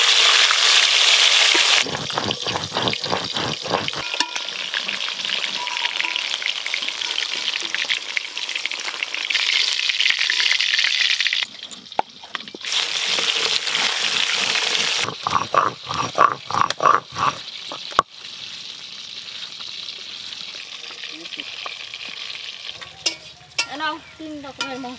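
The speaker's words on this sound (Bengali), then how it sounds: "এবার দাদুর তেলগুলো ভেজে নেবো।" Katla fish fat frying in oil, bursts of hissing sizzle with crackling pops and stirring, interrupted by brief pauses, close and fairly loud with no talk.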